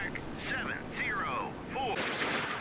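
A Bulldog missile launches from the warship Galveston in a naval combat video game, a rushing synthetic blast with sweeping whooshes rising and falling over a few seconds at moderate loudness.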